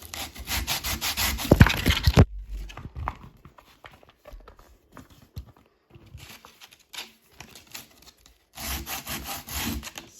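Sandpaper rubbing across the curved edge of a piece of oven-baked bark to flatten it for glue: a loud burst of scraping strokes at the start, a quieter stretch with light rubbing, then another run of strokes at the end.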